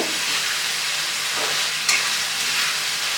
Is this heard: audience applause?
no